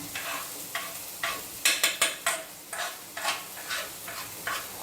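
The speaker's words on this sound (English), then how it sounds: "Dump the broccoli and the carrot in the pan." Broccoli and carrot stir-fried in a pan: rhythmic scraping stirs and clacks of the utensil against the pan, repeated about every half second, over a steady sizzle, close and with no talking.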